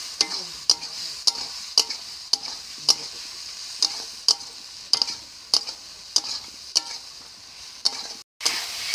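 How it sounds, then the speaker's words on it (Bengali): Cauliflower and potato pieces stir-fried in a spice paste with cumin, a steady sizzle under regular scraping strokes of a spatula against the pan, about one every half second, close and fairly loud with no talking. "এবার মশলার মধ্যে ফুলকপি আলু যে ভেজে রেখেছিলাম দিয়ে দিচ্ছি। ভালো করে কষিয়ে নিচ্ছি।"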